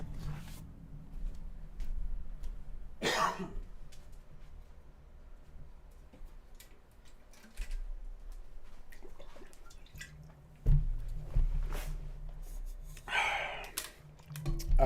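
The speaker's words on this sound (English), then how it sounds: "Nothing like a cold glass of water, but in a jug." Water is poured from a jug into a glass indoors, with a couple of short, splashy bursts over a quiet background and no one speaking.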